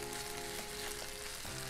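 Battered shrimp fry in hot oil for a Cajun po' boy, giving a continuous, even sizzle and bubbling hiss that stays faint and unbroken from start to finish.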